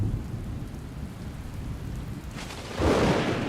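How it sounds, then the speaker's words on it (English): Steady rain falls across the open Liuwa plains, a dense even hiss that swells into a deep rumble of thunder near the end. "With the first drops of rain, the Liuwa itself comes to life."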